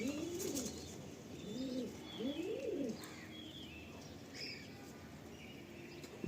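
Ustad Sona Miya pigeons in a loft give three or four close, rolling coos in a rhythmic series, with faint chirps from other birds in the background.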